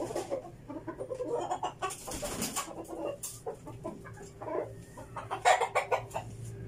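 Chickens and a rooster cluck steadily and close by, one bird loud over the rest at times, in a farm setting where hens and a rooster are kept for laying eggs.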